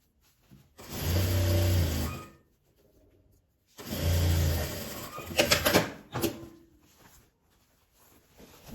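Domestic sewing machine stitching fabric scraps for a phone holder, running in two steady bursts of rapid whirring about a second and a half each, separated by a pause, followed by clicks and handling noises.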